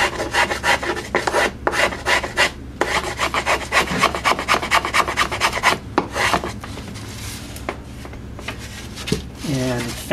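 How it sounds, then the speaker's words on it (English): Short rasping strokes of a finger plane shaving wooden bracing on a guitar top come in quick rhythmic bursts with brief pauses, close and fairly quiet, and a voice speaks near the end. "Mostly using chisels and finger planes at this stage of the game."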